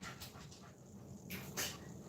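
A dog pants in quick, soft breaths close by, with a few brief louder bursts over a quiet indoor background.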